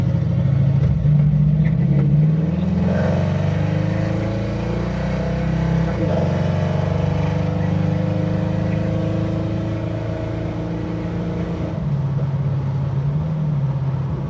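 A Ford Mustang engine revs hard while held on the brake, a loud close droning roar that climbs and holds in pitch, dips briefly, then settles into a lower steady rumble.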